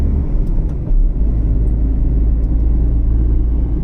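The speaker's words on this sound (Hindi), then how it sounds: "चलो जी, गाड़ी तो चला रहा हूँ" A 2020 Tata Tiago petrol hatchback with over 100,000 km, freshly serviced, drives along with a steady low engine and road rumble that stays loud and even throughout, no talking.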